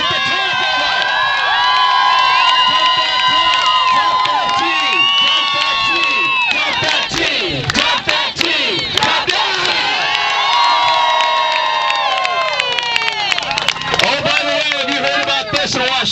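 Loud crowd cheering and whooping at a Tea Party rally in Sioux Falls, South Dakota, sustained shouts and high cries layered over one another throughout, with no break.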